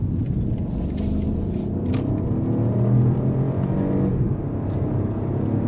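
A BMW M135 accelerates hard, its engine a deep, rising rumble heard from inside the car, growing slightly louder midway with some faint clicks above it.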